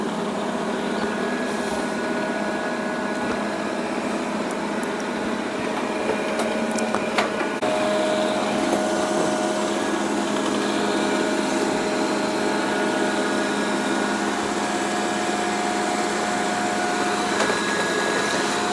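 A Dreame robot vacuum cleaner running across a home floor, edging along baseboards and around furniture legs: a steady whirring motor hum with a faint tonal whine and occasional light bumps and clicks.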